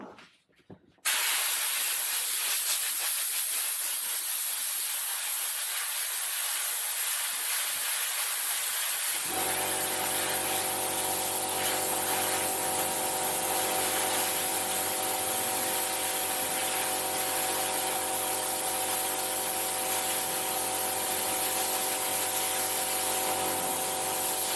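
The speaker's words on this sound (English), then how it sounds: "I will blow it off with some compressed air" Compressed air blowing off a mountain bike nut, a loud continuous hissing blast that starts suddenly and keeps going, with a compressor's droning hum joining partway through underneath.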